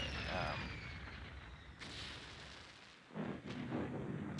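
Grenade blasts in Quake 2, several muffled booms and bursts spread across a few seconds, moderately loud over game noise and low rumble, with no voices.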